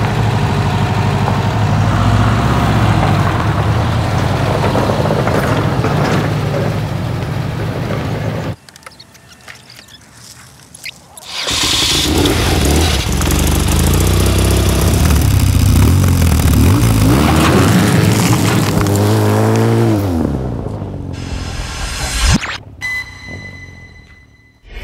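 A 2013 BMW R 1200 GS motorcycle engine runs loud and close, a steady rumble that cuts out briefly, then returns with revving that climbs and falls before stopping abruptly.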